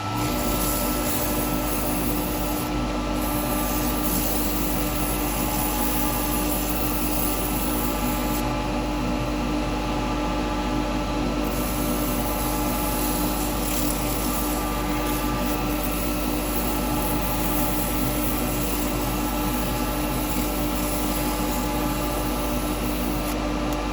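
A wooden candlestick spins on a woodturning lathe while 180 grit sandpaper is held against it, giving a steady, loud, continuous whirring rub with motor hum, unbroken for the whole stretch, no voices.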